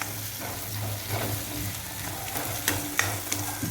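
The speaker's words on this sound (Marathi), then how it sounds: "शेंगदाण्याचा मसाला जो आपण केला होता तो पण आपण याच्यामध्ये टाकायचा आहे आणि छान एकदा मिक्स करून घ्यायचं आहे" Peanut masala stirred into a sizzling stuffed brinjal mixture in a pan, with a steady close frying hiss under soft scraping strokes and a few sharper clicks toward the end.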